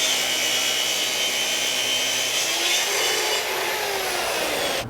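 A power saw cuts through a walnut shelf piece for a buffet in a loud, continuous whine lasting several seconds, with the pitch shifting slightly partway through and a sudden stop at the end.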